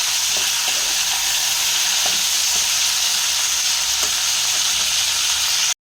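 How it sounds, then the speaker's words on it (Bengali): Steamed potatoes and cauliflower frying in oil in a pan, a steady close sizzle throughout with a few soft stirring knocks. "আলু আর ফুলকপি খুব ভালো করে আমি ফ্রাই করে নেব।"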